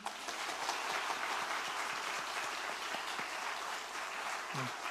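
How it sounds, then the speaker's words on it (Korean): Congregation at a Korean church sending-off service applauds in response, a dense, steady roar of many hands clapping for several seconds, even in level, with a brief voice near the end. "여러분은 박수로서 화답을 해주시기 바랍니다."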